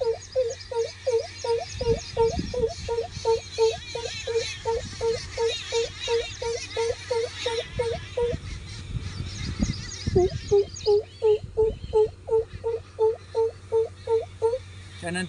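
A village mimicry artist imitates the call of the greater coucal with his voice, a long run of rhythmic, deep hooting notes repeated evenly in two bursts with a short pause between them, close and clear.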